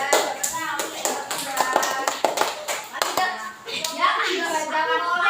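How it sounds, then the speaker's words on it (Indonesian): A classroom group claps in short bursts of sharp, uneven hand claps during a teaching session, with a teacher and children talking over and between the claps. "tepuk tangan untuk Mbak Iza."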